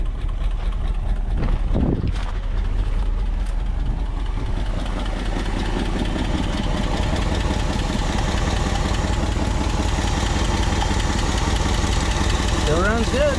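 Up close, the engine of a 1962 Ford Galaxie idles with a loud, continuous rumble and a steady mechanical chug, and some talking comes over it.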